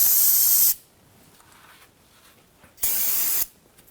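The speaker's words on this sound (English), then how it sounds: "Be sure to clean up the rear diff using some spray solvent." Two bursts of aerosol solvent spray hiss loudly while cleaning the rear differential of a 2006-2010 Hummer H3, the first lasting under a second, the second shorter after a pause of quiet.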